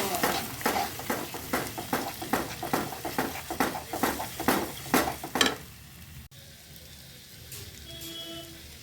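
Two eggs cook in a pan for a vegetable fry made with boiled roti. A spatula scrapes and stirs in a steady rhythm for about five seconds, then a quieter, faint sizzle carries on alone.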